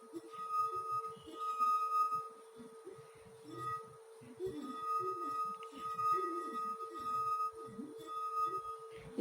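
A glass partly filled with water, struck to produce a musical tone: repeated bright ringing strikes with sustained overtones, interleaved with faint background sounds and no talk.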